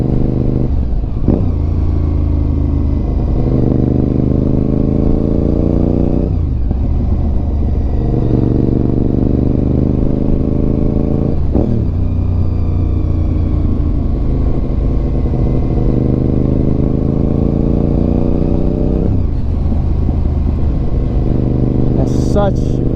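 A 2004 Honda RC51 Nicky Hayden Edition V-twin with gear-driven cams and fuel injection idles and revs loudly up close, a deep throbbing rumble with a mechanical gear whine, rising and falling through several throttle blips over about twenty seconds.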